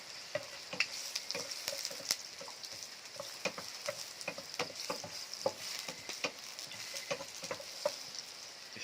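Ginger sautéing in a hot pan on a farm kitchen stove: a soft continuous sizzle with sharp, irregular clicks and scrapes from stirring.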